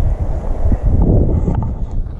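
Strong, gusty wind buffets the microphone at a lakeside camping spot on a cold day, a loud continuous low rumble with roaring surges and no clear voices.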